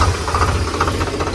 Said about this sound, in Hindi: पहले तो हम करेंगे ट्रैक्टर को स्टार्ट